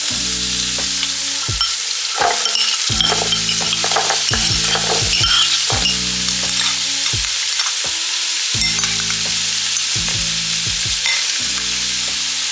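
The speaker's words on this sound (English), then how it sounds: "Now that I've seared the beef on both sides, I'm going to add in my onions and my carrots and garlic." Onions, carrots and garlic tossed into a pot with seared beef for stew: a loud continuous sizzle with rhythmic bursts of stirring and scraping, and no voices.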